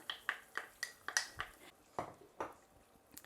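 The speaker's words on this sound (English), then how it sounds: "Now to this I'm going to add in my garlic that I have diced up." Diced garlic goes into a cooking pot as a utensil knocks it off against the metal, making a quick series of light, close clinks and taps that slow toward the end.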